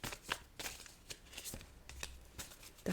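Tarot cards being shuffled and drawn by hand, with a steady run of close, soft riffling flicks and slaps, no voice over them.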